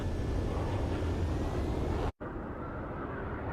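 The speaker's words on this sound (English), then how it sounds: "Multiple unidentified aircraft approaching." Jet aircraft engine roar from the combat flight game Ace Combat 7, a steady broadband rumble that cuts out briefly before resuming slightly quieter.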